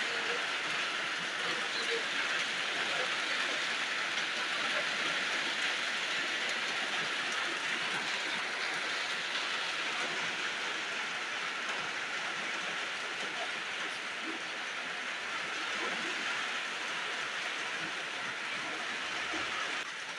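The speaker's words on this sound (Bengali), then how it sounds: "রোদ আর বৃষ্টি, এক পাশে রোদ আর এক পাশে বৃষ্টি।" Steady, dense rain pours down during a sun shower, a continuous close hiss of drops that holds at an even level throughout with no breaks.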